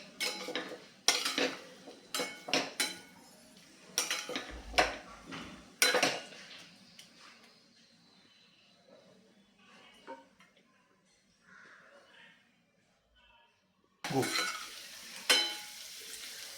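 Stuffed brinjals are stirred through a masala tempering in a pan: repeated close scraping clatters of spoon against metal in uneven bursts over a soft sizzle, a quieter stretch, then more stirring at the end.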